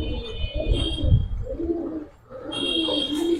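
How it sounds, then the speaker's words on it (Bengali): High flyer Gangchil pigeons coo in low, throaty gurgles, close and fairly loud, pausing briefly before resuming, with a steady high hiss in the background. "হ্যাঁ হচ্ছে ভাই গাংচিল কবুতর হাই ফ্লায়ার"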